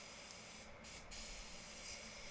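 Steady hissing spray gun laying top coat on a VE SS Commodore ute in a spray booth, continuous and close, with two short breaks in the spray.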